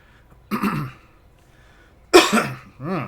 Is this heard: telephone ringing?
no